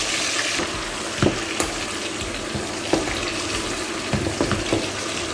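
Tuna curry stirred in a cooking pan, with a steady sizzle and scattered scraping clicks of the utensil against the pan, close and continuous.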